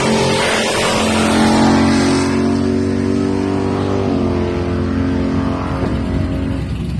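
A Chevy Chevelle drag racing car launches with a loud, sustained engine roar that stays close and strong, then its pitch shifts as it pulls away down the strip, with no talk over it.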